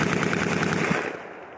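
Belt-fed machine gun firing on a U.S. Marine reconnaissance range in Alaska, a rapid close burst of shots lasting about a second before cutting off into fading echo.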